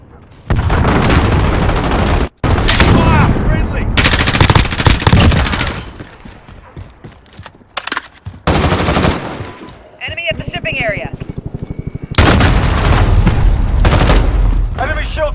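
Sentry gun turret in the Call of Duty: Modern Warfare multiplayer game firing loud sustained automatic bursts with brief gaps between volleys, mixed with other gunfire and explosions, with game voice callouts.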